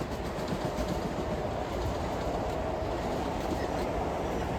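A Long Island Rail Road train passes near Babylon with a steady, loud rumble and rhythmic clickety-clack of wheels on rails, holding at an even close volume for the whole stretch with no voices.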